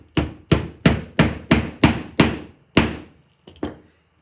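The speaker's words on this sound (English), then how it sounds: "Hammer it in." Sharp hammer strikes on a small tack ring out one after another, about seven in a steady rhythm, then a pause and a couple of lighter final taps, close and clear.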